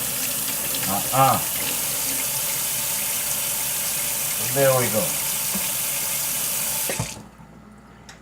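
Tap water runs steadily into a kitchen sink while food is rinsed for a homemade shepherd's pie, a continuous close splashing hiss broken by brief speech, then the flow cuts off near the end.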